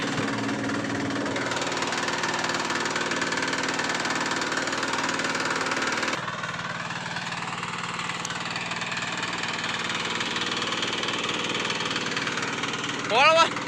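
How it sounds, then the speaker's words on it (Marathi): A tractor engine idles with a low, steady chug that shifts partway through, while voices talk faintly in the background. "ट्रॅक्टर"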